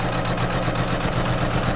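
Sewing machine tacking fabric down with blue thread on a quilted flower pillow block, a steady close mechanical whir running unbroken with no talk.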